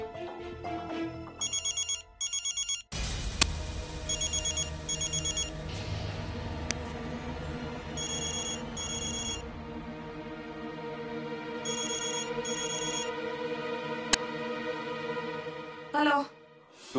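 A phone ringtone in a Hindi TV drama repeats in short electronic bursts, loud and close, over a steady background tone, with brief pauses between rings.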